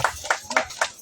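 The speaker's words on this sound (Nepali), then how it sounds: "ताली पिटन ताली" Hands clap at a wedding in four slow, evenly spaced sharp claps, fairly soft against the surrounding quiet.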